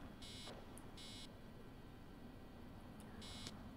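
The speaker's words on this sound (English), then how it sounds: "Oh god, with the beeping." Quiet electronic beeping from the video game Assassin's Creed Origins: three short high-pitched beeps spaced about a second apart over a low hum.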